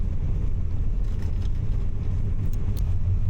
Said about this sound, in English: The buses in my rural area are pretty old, so the ride is quite bumpy.